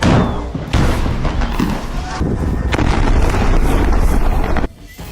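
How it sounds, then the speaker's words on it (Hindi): Heavy bombardment in southern Gaza near the Rafah crossing and Khan Younis comes through as loud, rumbling blasts and booms over buffeting wind noise, continuing almost without a break before dropping off near the end. "अब इजरायल दक्षिणी गाजा में भी रफा क्रॉसिंग और खान यूनुस पर भयंकर बमबारी कर रहा है।"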